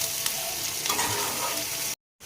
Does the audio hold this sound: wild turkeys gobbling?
no